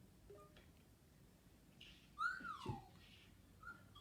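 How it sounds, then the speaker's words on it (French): A person whistles a single short rising-and-falling tone, moderately loud against a quiet, noisy background, with a couple of faint higher chirps around it. "Pourquoi tu siffles comme ça?"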